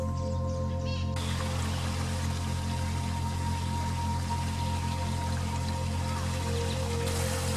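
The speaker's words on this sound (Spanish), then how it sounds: "hay una profunda quebrada por donde fluye un arroyo" A stream flowing through a deep ravine in Argentina, near a forgotten railway tunnel, giving a continuous broadband rush of water, fairly loud and steady throughout with no speech.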